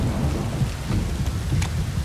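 Heavy downpour in the Witcher 3 game world, a dense continuous roar of rain with a low rolling rumble of thunder underneath, loud and steady with no speech.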